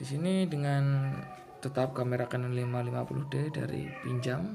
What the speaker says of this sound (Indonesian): Itu kucing saya, mungkin dia lapar.